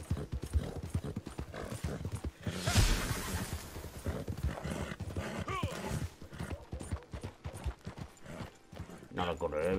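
Rapid hoofbeats of a galloping horse in Red Dead Redemption 2 Online pound in a steady clip-clop rhythm with occasional whinnies, while a player talks over the game sound.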